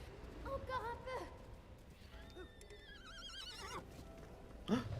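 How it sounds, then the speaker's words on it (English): In the video game Breath of the Wild, a horse gives a loud squealing whinny followed by a second wavering neigh, mixed with hoof clip-clops and a voice talking underneath. "I think the horse just made a squeal."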